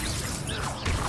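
A Levioso spell cast in Hogwarts Legacy makes a brief, dense magical whoosh with a mechanical clatter and a soft thud near the end, all within about a second.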